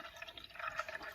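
Organic 2% milk pouring into a pan, a soft, faint, steady liquid trickle close by.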